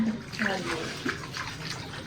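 Water gushing from a just-opened tap, a steady splashing flow with brief clinks, fairly quiet, with faint voices nearby.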